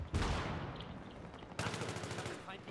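Close gunfire in a Battlefield 3 multiplayer match: a sharp loud shot burst at the start, fading rattle, then a second fast volley of automatic fire near the end, with some chatter underneath.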